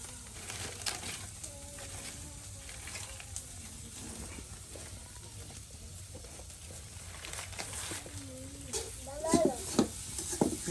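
Chorchori of vegetable stems, vines and jackfruit seeds with salt and turmeric cooks in a pan in a rural kitchen, giving a low steady sizzle and occasional stirring scrapes, with birds chirping faintly in the background and no talk.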